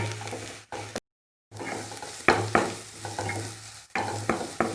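Chopped onion and carrot sautéing over a medium flame, a close sizzle broken by bursts of stirring and scraping, with one brief silent gap near the start and no talking.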